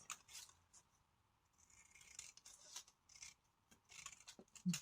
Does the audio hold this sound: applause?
no